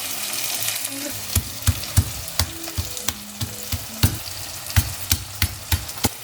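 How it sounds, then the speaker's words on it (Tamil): Small onions sautéing in hot oil after mustard seeds splutter: steady close sizzle with sharp pops and crackles scattered throughout, plus occasional stirring clinks. "ஒரு டீஸ்பூன் கடுகு பொரிஞ்சதும் கட் பண்ணி வச்சிருக்க சின்ன வெங்காயம் சேர்த்துக்கலாம். நல்லா வதங்கட்டும்."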